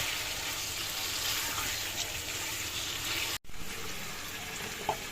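Milk poured into a pot of pilaf cooking with yogurt in a small kitchen, a steady wet sizzling pour running continuously close by.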